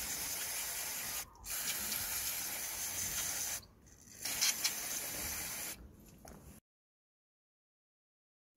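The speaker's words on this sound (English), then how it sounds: "I'm going to put the sensor in here like this and going to spray it inside" Electrical contact cleaner sprayed from an aerosol can into a VW Touran MAP sensor held in a container, heard as two close, steady hissing bursts of about two seconds each, followed by a shorter spurt and then silence.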